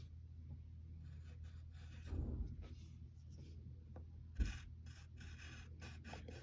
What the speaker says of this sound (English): And now we need to draw her bracelets.